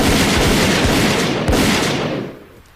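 A loud burst of gunfire, several rifle shots cracking together as one ragged volley, then the noise fades out over a couple of seconds.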